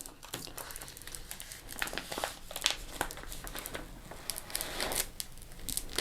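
Crinkly crackling and irregular peeling rustles as a big piece of tape is pulled off small vinyl sticker letters cut for a yard sign, close and fairly quiet with no voices.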